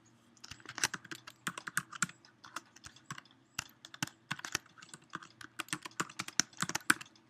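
Rapid keystrokes on a computer keyboard as web links are typed in, a close, steady clatter of irregular clicks in bursts with short pauses and no talking.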